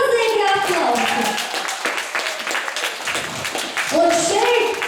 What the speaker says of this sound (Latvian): Aplausi, milzīgi aplausi!